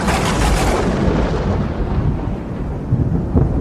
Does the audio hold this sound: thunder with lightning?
yes